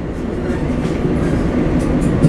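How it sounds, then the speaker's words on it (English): A train rumbles steadily along with a continuous low roar and faint rhythmic clatter of wheels, close and fairly loud, with no voices. "We are leaving right now on the train."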